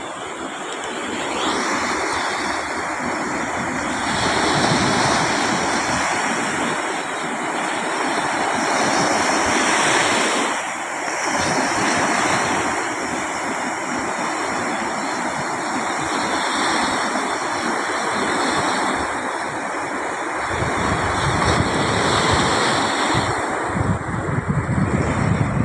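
Sea waves washing onto a beach, a continuous broad roar of surf with wind buffeting the microphone, swelling and easing over about twenty-five seconds.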